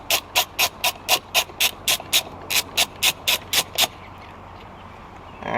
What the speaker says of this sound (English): just take this little grip and just start unscrewing it by hand